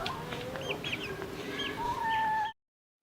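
Chickens cluck and murmur as new pullets are let into an established backyard flock one at a time, several birds calling close by in short overlapping bursts, with a longer drawn-out call near the end.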